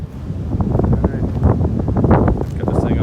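Cold wind on a mountain trail between Hawk Mountain and Woody Gap, a steady close buffeting roar on the microphone with rustling gusts, no talk over it.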